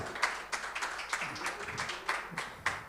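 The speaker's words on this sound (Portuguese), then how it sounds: "Ok, fuerte aplauso para nossa madrina com padrino" Applause for the godmother and godfather at a book launch, a quiet and somewhat distant spell of clapping from a small crowd, heard in uneven bursts.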